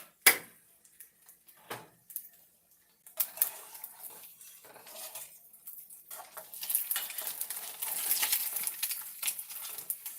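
A utensil scraping and tapping against cooked egg white in a frying pan at breakfast, producing sparse clicks and knocks at first, then a busier, steady sizzling scrape that grows louder toward the end.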